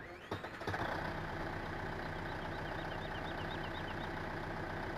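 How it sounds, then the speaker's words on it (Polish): The engine of a Zetor Major 80 tractor in Farming Simulator 15 starts with a brief crank, then settles into a steady, even idle heard from the cab, with no talk. "Wejdźmy sobie do środka i posłuchajmy, jak działa silnik."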